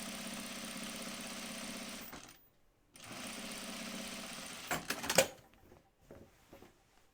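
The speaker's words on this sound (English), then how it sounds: "This is an experiment that I'm top stitching my side seams down." A sewing machine topstitches down the side seams of a V-neck top, running in a steady mechanical whir for about two seconds, pausing, then stitching again before stopping with a few clicks and handling noises.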